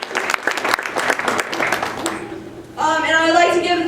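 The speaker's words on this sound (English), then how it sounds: "So give a round of applause to Anthony as well." Audience applause at a Martin Luther King Jr. Day hip hop event at Fort Lewis College, rising suddenly after someone speaks over a microphone, then holding as dense clapping with some cheering.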